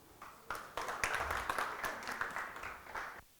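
A conference audience claps in welcome for a speaker, a steady patter of many hands at fairly low level from across the room, with no one speaking over it.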